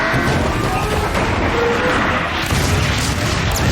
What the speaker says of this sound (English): That's what happens when you have a giant cannon on your side.